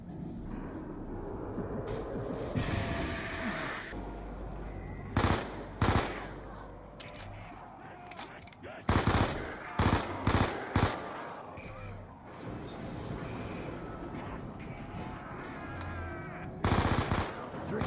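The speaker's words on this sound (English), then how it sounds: "I was shooting some zombies here" Rapid video-game gunfire blasts away at zombies in Call of Duty's Mob of the Dead, loud automatic bursts and sharp single shots repeating over a busy background of game noise.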